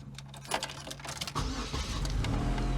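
An old Chevy Cavalier car being started, a key click and brief starter crank catching into a steady idling engine, close and fairly quiet, with no talking.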